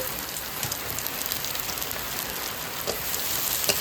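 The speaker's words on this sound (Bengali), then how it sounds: "এখন আমি কেটে রাখা পেঁয়াজ কুচি দিয়ে দিচ্ছি।" Chopped onion dropped into hot oil with frying garlic in a pan while cooking a chicken and cabbage curry, giving a steady, loud crackling sizzle with brief pops throughout.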